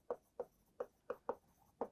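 A pen writes out the answer to an equation in short, distinct scratchy strokes, six or so evenly spaced taps, close and quiet, with no talk.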